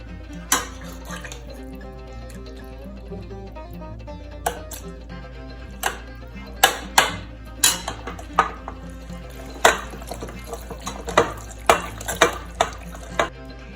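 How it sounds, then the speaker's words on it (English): Tomatoes are cranked through a metal food mill, producing a series of scraping, clanking knocks and squishy turns that grow more frequent over a low background hum, with no talking. "I am going to run it through the food mill."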